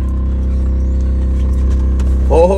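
A Fiat Fiorino car idles and drives with a loud, steady low engine hum, with faint voices underneath near the end.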